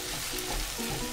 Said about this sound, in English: Saute this until it gets nice golden brown in color.